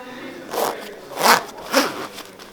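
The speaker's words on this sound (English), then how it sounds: "so you have a zipper that goes all the way around." Three drawn-out zipping strokes come from the zipper running around the zip-out Ventile cotton hood of a Waypoint Talisman jacket. They are close and fairly loud, with short gaps between pulls.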